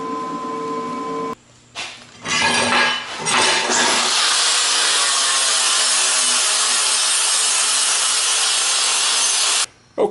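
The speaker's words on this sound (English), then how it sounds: "I'll take a flat disc and clean these up a little bit" A flap disc on a grinder working welded steel brackets: a few short starts and touches, then a loud, sustained, close abrasive grinding hiss that runs steadily before cutting off near the end.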